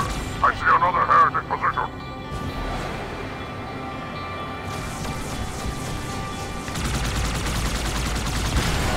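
Gunfire in Halo 2 from the Master Chief Collection, with a Banshee nearby: continuous rumbling battle noise that swells into rapid pulsing fire toward the end, with a voice shouting over it early on.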